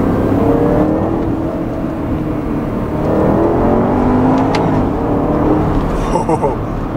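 A 2011 Porsche Panamera Turbo's engine revs hard toward about 7,000 rpm, its rising and falling whine sweeping up through the gears in a close, loud, sustained roar.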